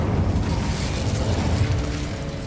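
The Incendio fire spell bursts in Hogwarts Legacy with a dense, rumbling whoosh of flame that holds steady and loud for a couple of seconds.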